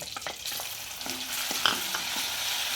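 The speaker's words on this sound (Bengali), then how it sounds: "কড়াই ফোড়ন দেওয়া হয়ে গেছে, এর মধ্যে আমি রসুন কুচিটা দিয়ে দেবো।" Chopped garlic sizzles and fries in hot oil in a wok after a cumin tempering, for a Bengali banana-flower dish, with a steady broadband hiss and a few soft clinks of stirring, no voices.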